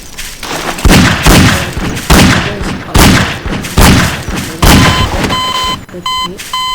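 Gunfire in the video game Garry's Mod: a run of loud, close, booming shots in repeated bursts about a second apart, followed by a few sharp electronic beeps near the end.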